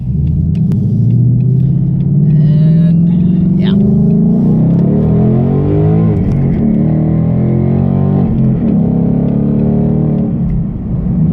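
A deep race car engine rumbles and revs loudly, its tone rising and wavering, with a brief voice heard over the roar.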